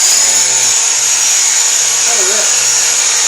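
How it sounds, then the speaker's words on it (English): A power drill spins a grinding and sharpening wheel on a deck-building job, giving a steady, loud, high-pitched whine that holds unbroken for a few seconds with no talk over it. "you just stick it in your drill, pick your forward or backwards,"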